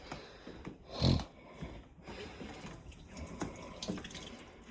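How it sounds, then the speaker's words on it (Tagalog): A running tap splashes over hands being washed, a soft continuous watery hiss with a louder gush of splashing about a second in, fairly close and with no talking. "maghugas tayo ng kamay"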